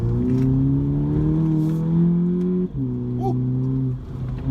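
VW Polo GTI engine pulling hard through a corner, a loud steady drone rising in pitch, dipping briefly at a gear change, then climbing again, with a short exclamation from a voice inside the car.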